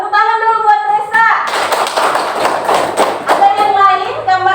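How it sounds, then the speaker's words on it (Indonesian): A classroom of students claps for a classmate in a brief, dense burst of applause lasting about two seconds, with voices speaking just before and after it. "Tepuk tangan dulu buat Resa."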